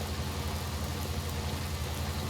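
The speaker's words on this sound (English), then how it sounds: "This rain is still here." Rain in the farming video game Farming Simulator 19, a steady, dense patter with a low rumbling hum underneath, constant and even throughout with no voices.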